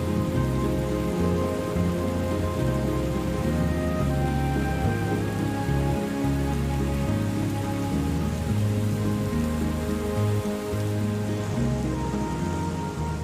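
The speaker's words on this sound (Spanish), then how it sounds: "Y aguanta el chaparrón durante horas." Heavy rain pours down steadily in the African savanna during a storm, a loud, dense and continuous hiss of drops striking the ground without a break.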